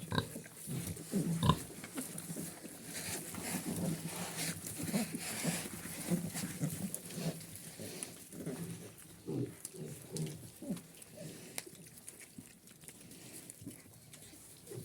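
Piglets in a pigsty grunt and snuffle continuously at close range, low rough oinks overlapping with faint rustling and pattering through the whole stretch.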